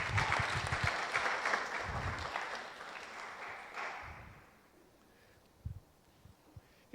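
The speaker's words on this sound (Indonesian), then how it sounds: "Kasih tepuk tangan buat Helmi." Applause for Helmi at a church service in Tokyo, a burst of clapping that rings out for a few seconds and then fades away, leaving quiet room tone with a few faint thumps.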